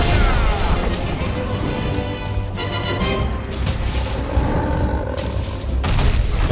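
Weapon fire striking a monster in Monster Hunter World. Dense, continuous game audio of heavy booms and crashing impacts runs throughout at a steady loud level, with no clear gaps between hits.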